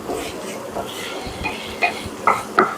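Okra fry being stirred in a pan, soft scraping and sizzle with a few sharp metallic clinks of a spoon against the pan toward the end, close and fairly quiet.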